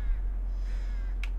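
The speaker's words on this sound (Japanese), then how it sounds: "カラスを飛ばしてましたやったな" Crows cawing in the Jump King video game, a single short harsh caw near the end over a steady low hum, close and clear.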